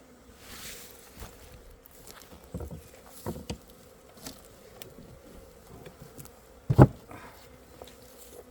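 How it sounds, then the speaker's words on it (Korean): An Asian honeybee swarm, the first of the year, hums at an apiary in April with a soft, steady buzzing close by, broken by a few quiet knocks and one sharp thump. "봉장에 동양종 꿀벌이 하나 들어왔죠"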